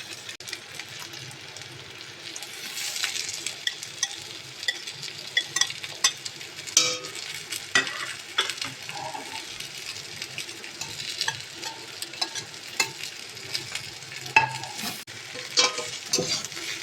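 Vegetables and scrambled egg stir-fry in oil in a wok for hakka noodles. The sizzle is steady and fairly close, broken by frequent clattering spatula strokes against the metal, with no talking.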